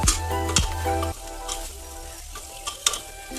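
Spices with garam masala and red chilli powder stirred in a hot pan for veg pulao, close sizzling under sharp spoon scrapes and taps against the pan.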